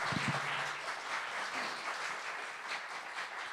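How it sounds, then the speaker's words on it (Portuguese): A hospital quality forum audience applauds, a dense, steady wash of many hands clapping that carries on evenly for a few seconds, moderately loud and without talk. "eu vou pedir um aplauso para esses dois."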